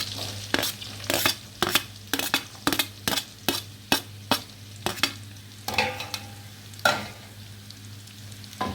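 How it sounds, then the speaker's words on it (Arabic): Chopped onions sauté with sujuk in a frying pan, with a steady sizzle under repeated sharp scrapes of a spoon stirring, about a dozen strokes in an even rhythm, close and clear with no talking. "زي ما انتم شايفين شوح البصل مع الصدق كده"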